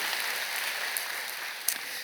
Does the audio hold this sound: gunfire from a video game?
no